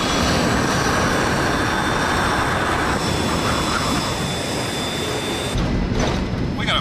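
Steady, loud broadband roar of a four-engine aircraft in flight with number four on fire and shut down, flying on two engines; the drone fills the whole clip, briefly dipping near the end.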